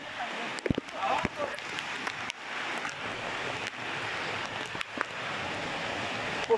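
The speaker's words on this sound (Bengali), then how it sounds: "প্রচুর বৃষ্টি," Heavy rain falls in a dense, steady wash of noise with some wind buffeting and a few sharp knocks, heard outdoors on a trip along a wrong road.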